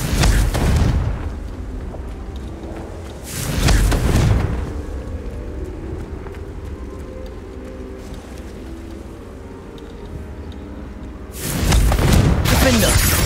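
Confringo fire spells burst in Hogwarts Legacy: three loud booming blasts, one at the start, one about a third of the way in and one near the end, over a steady rumbling battle backdrop with spell shouts heard.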